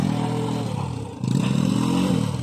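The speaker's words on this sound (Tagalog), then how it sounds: "Kailangan iakyat yung motor." A motorcycle engine revs and labors close by on a landslide-damaged road as the bike is pushed uphill, its loud, rough drone dipping briefly before surging again with clattering scrapes.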